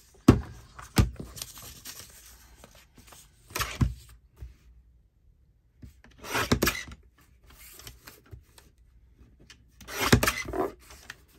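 Paper being cut out for a craft and ephemera-making session: short raspy snipping and rubbing bursts, close and moderately loud, separated by quiet pauses.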